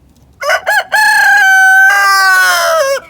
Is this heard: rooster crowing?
yes